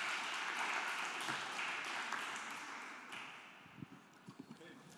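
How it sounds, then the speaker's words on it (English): Audience applause at a conference panel on club culture, steady clapping from a crowd that gradually fades out, followed by a few scattered claps and faint voices. "Big claps."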